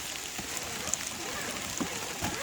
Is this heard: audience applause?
no